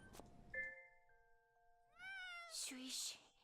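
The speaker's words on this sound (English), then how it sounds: "Meow. It's coming from here." A cat meows twice in Gravity Rush 2, a short cry followed by a longer rising-and-falling one, clear and close after a brief tone, with someone speaking briefly.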